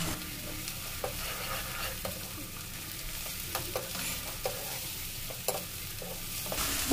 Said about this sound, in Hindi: देखिए इसमें अदरक लहसुन का पेस्ट डाल दिया, अब इसको 1 मिनट चला लेंगे